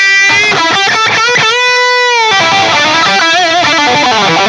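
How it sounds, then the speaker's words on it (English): An electric guitar on the lead channel of a Boogie amp rig plays a loud, sustained melodic line, with a distortion pedal and a little delay adding a thick, singing tone and brief pauses between phrases. "And then there's the lead channel, also only just a little bit of delay, and the distortion pedal is spicing up again."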